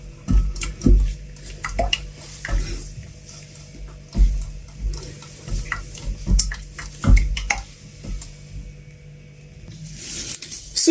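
Homemade skincare cream mixture with fragrance oil being stirred in a container, soft scraping and clinking strokes repeating irregularly, close and fairly quiet, no talking.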